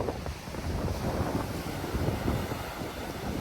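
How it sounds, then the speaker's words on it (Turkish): Strong wind at the seaside by a harbour with boats, a loud, continuous buffeting roar against the microphone with surf mixed in, no voices. "Hava çok rüzgarlı."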